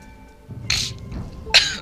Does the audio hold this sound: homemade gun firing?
no